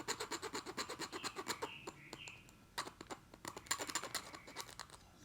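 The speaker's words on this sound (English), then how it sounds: "Right at that spot, I start cutting the wing." A homemade hand saw with a very fine metal jigsaw blade cuts through a saw-whet owl's wing: a rapid, rhythmic rasping of short back-and-forth strokes, close and quiet, with brief pauses between bursts.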